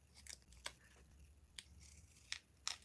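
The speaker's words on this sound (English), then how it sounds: "I'm just going to snip it here." Scissors snipping a paper label, a few faint, crisp snips spaced apart over quiet room tone, close but soft, with no talking.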